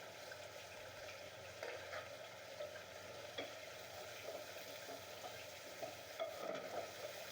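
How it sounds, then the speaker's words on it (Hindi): Chopped onion and garlic stir-fry in a pan, a soft, steady sizzle with light stirring scrapes throughout, fairly quiet and with no voices. "लहसुन और प्याज को हल्का सा स्टर फ्राई करें।"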